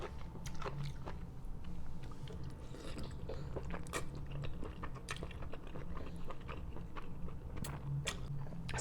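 A one-year-old eating creamy vegan gluten-free pasta, with close, steady wet chewing and crunchy, clicky mouth sounds repeating throughout, alone with no talking.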